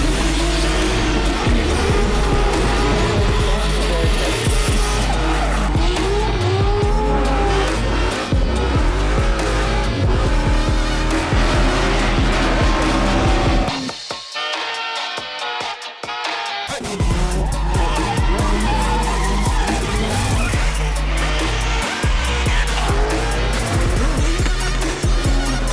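Drift cars at the 2020 Valvoline D1NZ Drifting Championship grand final roar and slide with squealing, skidding tyres and revving engines, loud and continuous, with a brief lull midway before the engine noise and tyre squeal return.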